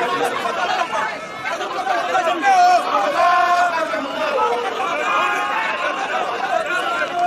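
A large crowd at a big march, dense overlapping chatter and shouting voices filling the scene continuously, loud and close, with occasional raised cries standing out from the murmur.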